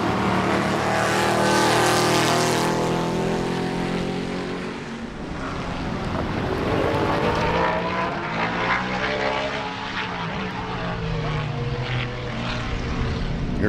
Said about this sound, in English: Here comes your leaders through the 3-4 turn area.